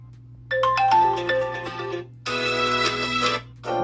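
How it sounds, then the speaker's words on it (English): A ringtone plays from the speaker of a HOTWAV R10 Pro rugged tablet, two close, bright melodic bursts of chiming notes separated by a short pause, over a low steady hum. "You also have the option to listen to some of those ringtones."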